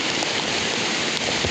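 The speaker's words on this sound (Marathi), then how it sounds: "एक नंबर पाऊस पडता." Heavy monsoon rain pours down steadily in a Konkan village, a dense, loud, continuous hiss and patter with no pause and no voices.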